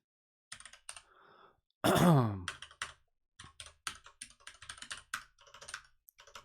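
Close, quiet typing on a computer keyboard in irregular bursts of clicks, broken by a loud sigh or groan from the person at the desk.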